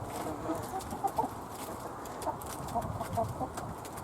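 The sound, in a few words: chickens clucking while eating cabbage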